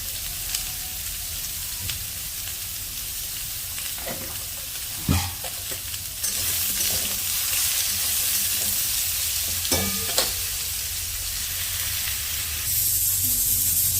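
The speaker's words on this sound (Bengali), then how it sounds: "বেগুনটাও একটু ভালো করে ভেজে নেবো।" Eggplant fries in a pan, giving a continuous loud sizzle broken by a few sharp clicks and scrapes of stirring, with no talking.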